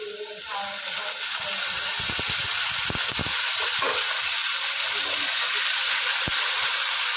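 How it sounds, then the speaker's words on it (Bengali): Water poured into a hot pan of fried pointed gourd for a Bengali fish chorchori sets off a loud, steady steaming hiss with a few sharp crackles, filling the whole clip at close range without any talk. "এবার পরিমাণ মতো জল দিয়ে দেব"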